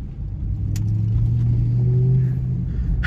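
An Audi RS5 engine revs hard at full throttle, a loud rising low roar building for a few seconds before easing off.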